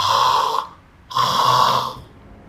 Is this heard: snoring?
yes